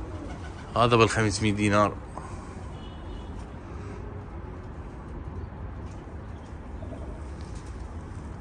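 Pigeons coo softly amid steady outdoor background noise, their calls running faint throughout, while someone speaks briefly near the start.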